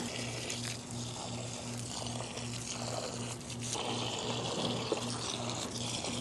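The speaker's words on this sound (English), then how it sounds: "I'm just going to water each one individually just today because we just planted them." Water poured by hand onto freshly planted garden plants on a hot day, a steady close splashing trickle running throughout with a low periodic hum underneath.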